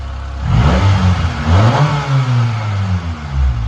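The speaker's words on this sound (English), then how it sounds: "This is what the stock intake sounds like." A 2000 Honda Civic engine with its stock intake revs up sharply, its pitch climbing and falling in a loud, close burst before settling back toward idle.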